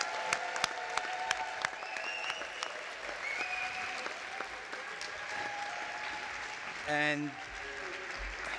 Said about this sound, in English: Please join me for another round of applause